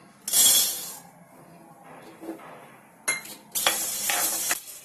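Black peppercorns dry-roast in a pan for sambar powder, giving bursts of crackling and rattling as they are stirred and tossed, loud sizzling spells broken by quieter gaps.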